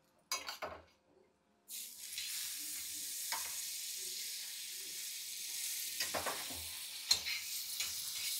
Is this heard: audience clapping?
no